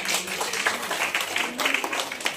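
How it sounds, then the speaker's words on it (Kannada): A gathered audience at a health talk breaks into brief applause, a scattered burst of clapping mixed with murmuring voices, moderately loud and close. "ಜೋರಾಗಿ ಚಪ್ಪಾಳೆ"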